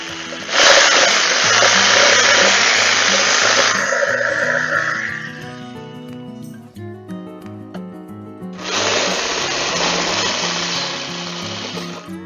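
A power tool whines loudly while trimming wood for a model railway layout, running in two long bursts separated by a pause, with clicks and handling noises in between and no talking.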